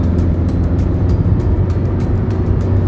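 A Maruti Swift diesel car pulls hard up through the speeds on the road, its steady low engine drone loud and continuous with faint road and wind noise layered above.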